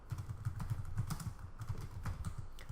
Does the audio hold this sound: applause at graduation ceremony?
no